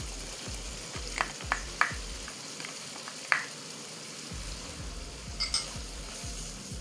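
Green chillies hit a hot pan of oil while cooking dhaba-style chana dal, giving a steady close sizzle and fry with a few sharp crackles and spits, no talking.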